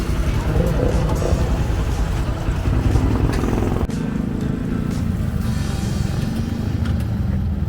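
A motorcycle engine runs with a loud, steady, close drone that never lets up, masking everything else around it.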